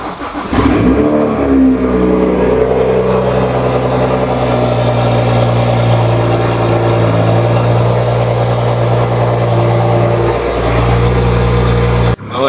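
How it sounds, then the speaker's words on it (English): A car engine cold-starts with a short cranking stutter, then catches into a loud, steady high idle that drones on, close by, and cuts off abruptly at the end. "Cold start, guys."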